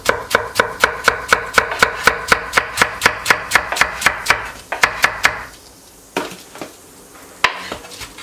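Steady, rapid knife chops on a cutting board through cabbage, about three strikes a second, loud and close, then pausing for a few scattered thumps near the end; no talking.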